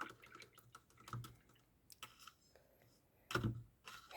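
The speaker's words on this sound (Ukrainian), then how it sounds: "вимиваємо пензлик" A paintbrush being rinsed in water while painting a Christmas ornament, with soft irregular drips, taps and small splashes close up and quiet, a brief louder swish near the end.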